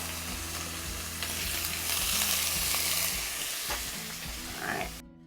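Olive oil sizzling loudly in a frying pan while queso ingredients are stirred with a spurtle, a steady close hiss with scraping stirs, cutting off abruptly at the end.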